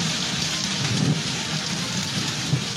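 Heavy rain pours steadily during a storm in Lahore, a dense, continuous hiss of drops hitting surfaces, loud and close with no speech over it.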